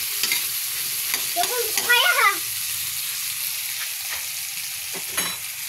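Sardines sautéing in a pan with sweet potato leaves and malunggay, a steady sizzle broken by a few stirring scrapes and clatters, louder bursts around the middle, heard close with no talking.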